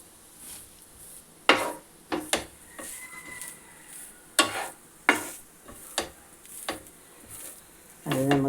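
Grated coconut fries in a pan while being stirred, a quiet sizzle punctuated by a series of distinct scraping strokes at irregular intervals.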